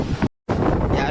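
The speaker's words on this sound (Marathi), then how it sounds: "एवढा वारा आहे ना की मोबाईल सुद्धा मला पकडायला जमत नाहीये" Strong wind buffets the microphone on the open deck of a merchant navy cargo ship at sea, a loud, steady roar with one brief dropout.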